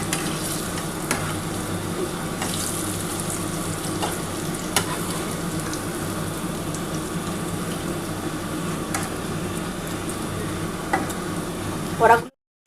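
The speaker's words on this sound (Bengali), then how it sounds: "পেঁয়াজ দিয়ে শুধু এটা ভাজছি" Lentil fritters with onion fry in hot oil, a continuous close sizzle with occasional stirring clinks and soft voices faintly underneath, ending in a short clatter before cutting off.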